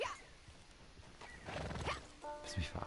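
Horse in the video game Red Dead Online, a short whinny and hoof clip-clops over game ambience, with a voice speaking briefly.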